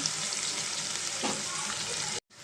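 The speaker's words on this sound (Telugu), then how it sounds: "మనకి ఉల్లిపాయ కొంచెం ఫ్రై అయ్యేదాకా ఒక 1 మినిట్ అయితే ఉంచుకుందాం" Chopped onions with green chillies and coriander frying in a pan for puri curry, a steady close sizzle with a brief stir scrape, cutting out abruptly near the end.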